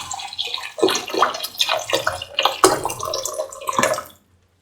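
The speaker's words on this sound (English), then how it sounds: "After sauteing for 4 to 5 minutes, pour in 500 ml of water." About 500 ml of water is poured into a pot of sautéed breadfruit stew, giving a splashing, gurgling pour that lasts roughly four seconds and then cuts off into silence.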